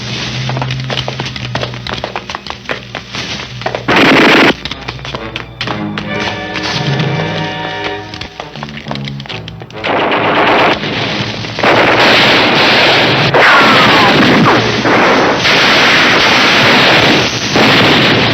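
Battle noise from a 1971 Filipino-American horror film: loud repeated thuds and cracks of machine-gun and artillery fire, broken by a quieter stretch, then returning as dense, sustained gunfire over shouted commands.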